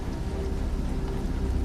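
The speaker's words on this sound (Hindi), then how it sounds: "इतनी तेज बारिश है" Heavy rain pours steadily at night in a dense, unbroken roar with a low rumble underneath, and no voices.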